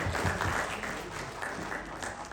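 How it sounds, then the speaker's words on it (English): A round of applause at a states' policy conclave. The clapping is steady and fairly close, a continuous wash of claps from a seated audience throughout. "A big applause, round of applause for him"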